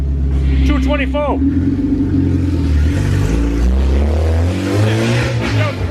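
An 8th gen Honda Civic Si engine revs loudly up close, rising and falling through strong pulls with a deep rumble, with a short spoken phrase heard early.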